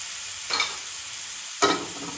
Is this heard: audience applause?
no